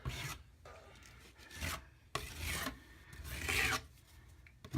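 A spatula spreads joint compound over drywall joints with repeated rasping, scraping strokes, close and fairly quiet, in an uneven rhythm of four or five passes with no talking.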